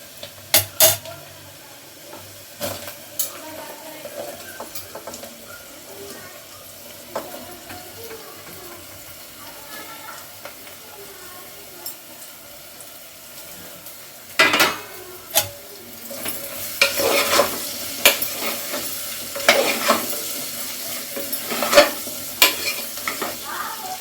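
Pieces of bottle gourd fry and are stirred in a pan for a curry cooked with green chillies, a soft steady sizzle broken by scraping spatula strokes against the metal, busier and louder toward the end.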